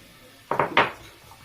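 A spatula scrapes and mixes dry ingredients for a Damietta-style dough in a bowl, making three quick, close, scuffing strokes in an otherwise quiet kitchen.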